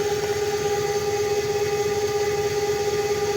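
A separately excited DC motor runs in a lab speed-control test, giving a steady, loud mechanical hum with a constant whine and faint rhythmic pulsing, no voices.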